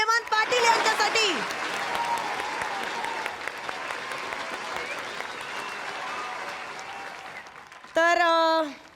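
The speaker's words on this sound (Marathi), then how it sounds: "जोरदार टाळ्या हेमंत पाटील यांच्यासाठी" A studio audience at a Marathi comedy show applauds a sponsor, with steady, dense clapping lasting several seconds; a voice talks briefly at the start and again near the end.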